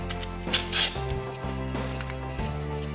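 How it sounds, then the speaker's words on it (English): A tool scrapes down damaged drywall edges in short, close scraping strokes, each leaving a ringing tone behind it, with no speech. "So I'm just scraping these down and angling them inward."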